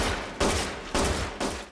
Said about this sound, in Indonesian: Ketika mendengar suara langkah kaki mendekat ke arahnya, Hirose pun segera melepaskan sejumlah tembakan.